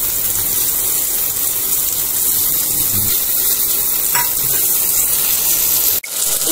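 Bay leaf frying in hot oil on a low flame for a Bengali sukta, a continuous even sizzle with light crackle and a brief clatter near the end.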